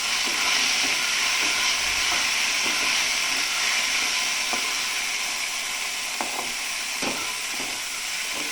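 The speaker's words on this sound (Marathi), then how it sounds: "हे आपण आता परतवून घेऊया." Spicy pasta sauce sizzling and frying steadily in a pan over lowered flame, a continuous bright hiss with occasional faint clicks of stirring, close and even throughout.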